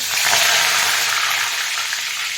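Cumin seeds hitting hot oil for a potato vada filling give a steady, close hiss of sizzling frying that holds level throughout, with no talking.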